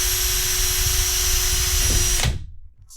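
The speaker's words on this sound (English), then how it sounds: "And that is what the drilling will look like" A power drill whines continuously at high speed, drilling into a Millennium Falcon model, close and loud, then winds down and stops abruptly near the end.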